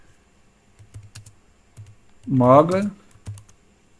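A computer keyboard tapped in a few brief, separate clicks at a quiet desk, with a voice speaking briefly in the middle.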